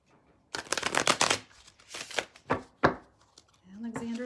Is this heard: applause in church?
no